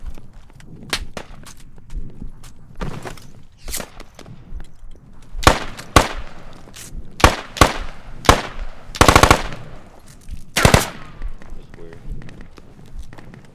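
Gunfire in the video game Squad: sharp, separate shots and short bursts spread irregularly across the clip, some close and loud and others fainter, with quiet gaps between them.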